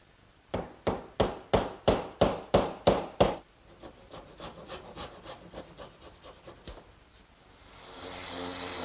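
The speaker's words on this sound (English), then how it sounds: "And I'll drive it in, making sure not to hit it so hard that it might pop through the other side." A glued wooden dowel driven into a kitchen worktable with a hammer, about ten evenly spaced sharp blows in quick succession, loud and close, followed by quieter rubbing and scraping of wood and a rising background hum.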